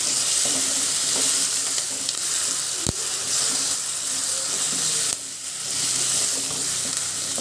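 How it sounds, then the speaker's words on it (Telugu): Ginger garlic paste, about a tablespoon, fries in a hot pan with a steady, close sizzle and the scrape of occasional stirring, plus one sharp metallic tap partway through. "అల్లం వెల్లుల్లి పేస్టు ఒక వన్ టేబుల్ స్పూన్ వేస్తున్నాను వేసి పచ్చివాసన పోయే వరకు వేయించుకోవాలి"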